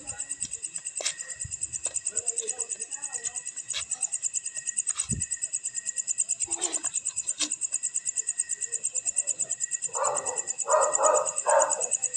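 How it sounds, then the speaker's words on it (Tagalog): Several dogs bark in short bursts at a distance over a constant loud drone of insects, with one closer bark near the end. "Kahit saan may aso."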